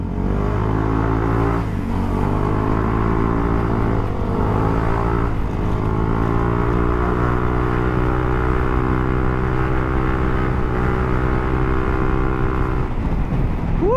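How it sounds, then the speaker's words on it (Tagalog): Scooter with a tuned CVT and aftermarket exhaust pipe idling and revving close by: a steady, loud harmonic exhaust drone with slight pitch swells and dips throughout. "Sarap ng pipe natin, ng lutong."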